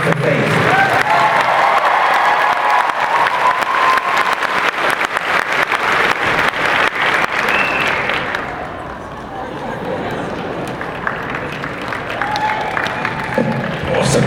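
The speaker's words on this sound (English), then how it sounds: "Let's hear it for Faith." A large convention audience at Planet Comicon 2015 in Kansas City claps loudly and cheers for a guest on stage. The dense applause fades to a quieter murmur partway through, and voices can be heard over it.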